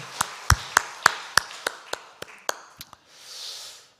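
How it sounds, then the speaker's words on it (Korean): A church congregation at a Wednesday dawn prayer service claps for a team, though here it comes through as a series of about a dozen sharp, separate claps at an uneven pace before a soft hiss at the end. "우리 3팀을 위해서 우리 큰 박수 한번 합시다"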